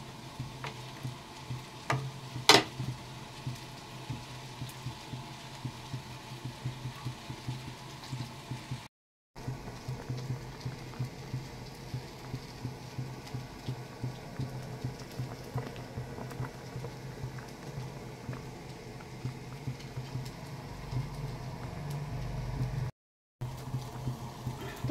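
Dudh puli rice dumplings boil in milk in a pot, giving a steady, soft bubbling and simmering texture with faint pops, close and continuous for the whole stretch, with no voices.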